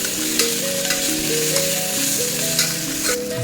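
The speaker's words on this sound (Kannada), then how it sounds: "ಮಸಾಲಾನ ಆ್ಯಡ್ ಮಾಡ್ಕೊಬೇಕು ಫ್ರೈ ಮಾಡ್ಕೋಬೇಕು" Ground masala paste frying in a pan for mushroom gravy, a loud, even sizzle with occasional stirring clicks, accompanied by background music.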